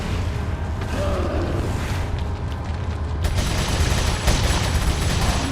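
Sustained submachine gun fire from the TMP during a Resident Evil 4 boss fight, a dense continuous rattle of rapid shots with booming impacts, loud and close throughout, growing heavier in the second half.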